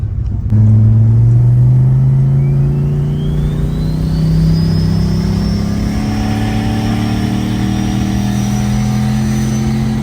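A turbocharged LS1-powered Holden VY car accelerates on low boost with a stock ECU, its engine rising in a loud, sustained drone with a faint turbo whistle climbing over it, heard close from inside the car.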